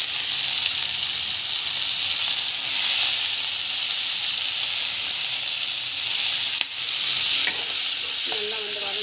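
Tomato sautés in a pan with ginger garlic paste, a loud, steady sizzle and hiss running throughout, with a few sharp utensil knocks and scrapes toward the end and no voices.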